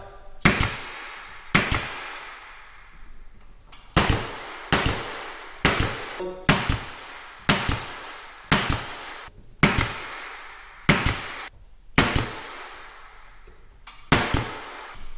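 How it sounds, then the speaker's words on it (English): Pneumatic nail gun driving trim nails into crown molding around a range hood vent chimney box; a dozen or so sharp, close cracks, each followed by a short hiss, fired one at a time in a steady rhythm about a second apart. "we'll just shoot some trim nails in here and finish it out"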